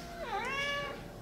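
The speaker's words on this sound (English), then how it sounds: "look at all these cats" A single cat at an animal shelter gives one clear, close meow that rises and falls over about a second, with no voices.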